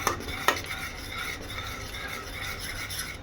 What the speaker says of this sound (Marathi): छान परतवून घेऊया.